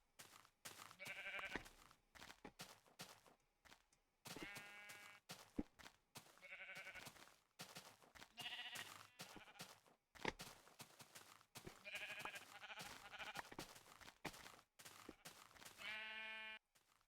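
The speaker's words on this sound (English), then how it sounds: "Sheep." Repeated sheep bleats from the video game Minecraft, a string of short wavering calls spaced a second or two apart, clear and fairly close with brief quiet gaps between them.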